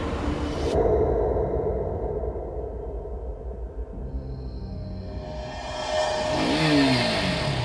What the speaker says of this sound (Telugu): అది చూసి ఆకాష్ విరక్తితో తన పాత డబ్బా బైక్ తీసుకుని బయలుదేరాడు